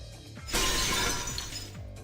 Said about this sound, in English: The sound of breaking glass is accompanied by a light cutting through the gloom.